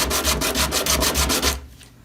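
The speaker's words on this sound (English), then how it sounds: "I don't want to sand down the corners, edges" Wood sanding on an instrument neck, with rhythmic back-and-forth rubbing strokes, about a dozen of them, close and steady, before stopping abruptly.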